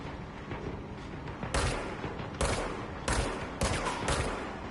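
Repeated gunfire from shooting enemies in the video game Control, with four loud sharp bursts in uneven rhythm over a dense, continuous bed of action noise.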